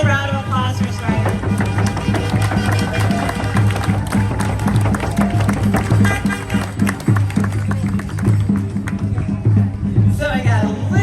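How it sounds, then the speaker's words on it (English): A crowd applauds at an outdoor John Lewis Good Trouble Lives On event, scattered clapping and cheering mixed with crowd babble and voices, continuous and moderately loud throughout. "Can we get another round of applause"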